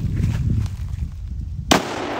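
A single sharp gunshot from a Black Aces Tactical shotgun cracks out near the end, following a stretch of low rumbling background noise outdoors.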